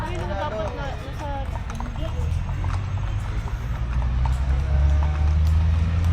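Horse hooves clip-clop along a street in Baguio, a steady near rhythm of hoofbeats against a busy outdoor background, with people talking over it.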